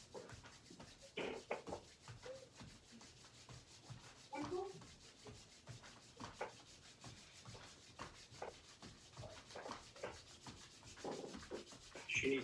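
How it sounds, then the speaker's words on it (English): Palms rubbing briskly together during a qigong warm-up, a soft close swishing friction repeated in quick strokes, continuing steadily with brief gaps. "Tapping, rubbing the palms together,"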